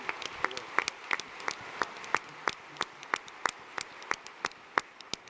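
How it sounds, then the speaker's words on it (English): Sparse applause from a small audience at a livestreamed startup competition finals, a few distinct hand claps spaced at a steady rhythm, crisp and fairly close in a quiet room. "Give her a round of applause."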